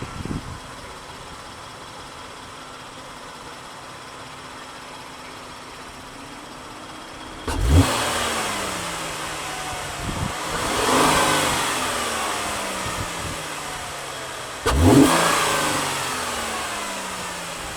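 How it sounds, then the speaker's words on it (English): A stock-exhausted 2014 Chevrolet Camaro V6 convertible with a 3.6-liter engine idles steadily, then is revved loudly twice from close by, each blip rising sharply and settling back to idle. "This is going to be a stock exhaust clip of the 2014 Chevrolet Camaro V6."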